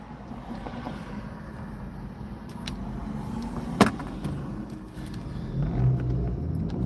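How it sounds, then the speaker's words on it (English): Steady low traffic rumble from cars on the road outside, a continuous wash with one brief sharper pop near the middle and a slight swell toward the end, no talk over it. "You guys can hear like all the cars"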